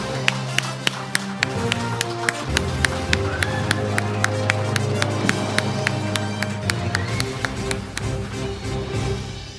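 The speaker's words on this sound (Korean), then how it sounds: "다 함께 큰 박수로 목표 달성의 의지를 다지겠습니다" Audience at a corporate goal-pledge ceremony responding with rhythmic clapping, sharp evenly spaced claps over a steady musical backing, loud and close, continuing without pause.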